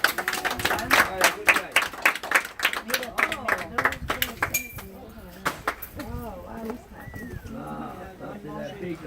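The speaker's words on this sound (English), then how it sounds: "Let's give King a hearty round of applause for all of his hard" Scattered clapping from a small crowd at a gorilla show in Monkey Jungle, with sharp claps in the first seconds that thin out as a presenter talks and birds chirp nearby.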